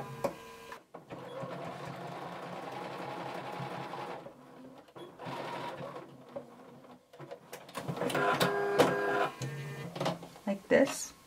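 Close sewing machine whirring while stitching the sleeve of a workout top, with short runs and pauses for backstitching, a voice talking over much of it.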